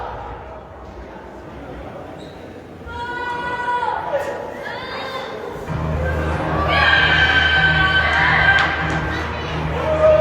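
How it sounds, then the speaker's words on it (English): Wrestling crowd at a live event in Arizona booing wrestler Savio Vega, a swelling mass of voices with drawn-out jeers and shouts that grow louder midway, heard alongside close commentary talk. "They're booing Savio Vega."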